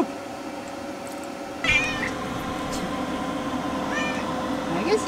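A cat meows a few times close by, short rising cries breaking through while a person talks and steady background noise runs underneath.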